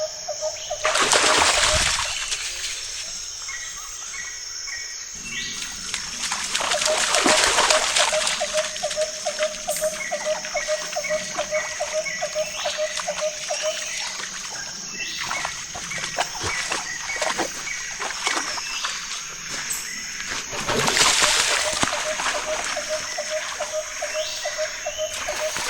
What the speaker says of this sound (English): Are you at the creek? Are you taking a sponge bath?